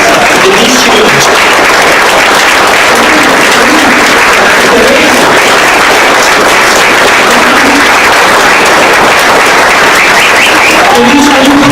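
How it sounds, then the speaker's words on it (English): Audience at a celebration-of-life memorial in Watsonville, California gives Denise Hughes of MALDEF sustained loud applause, a dense, even roar of clapping filling the room, with a few voices murmuring and calling underneath. "Denise, please stand up and let us give you a round of applause"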